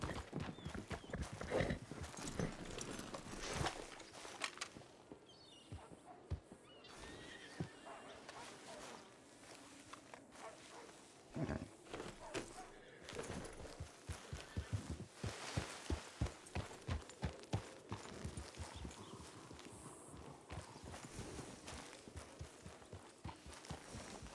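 Horse hooves clip-clop in a Red Dead roleplay video game, with irregular bursts of hoofbeats throughout and brief whinnies between, loud and close.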